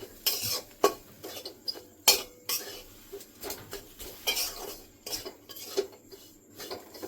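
A spoon scrapes and clacks repeatedly against a pan while milk is worked into a beetroot ladoo mixture, an irregular series of close metallic knocks and scrapes with faint sizzling underneath.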